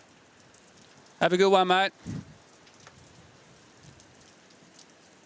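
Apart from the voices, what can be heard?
rain pouring on the beach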